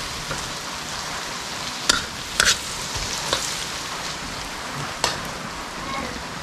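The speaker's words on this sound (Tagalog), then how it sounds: "Hintay lang natin na mag-brown ang garlic." Garlic fries in butter until brown, giving a soft, steady sizzle with scattered sharp pops and crackles spaced a second or two apart, fairly quiet and close.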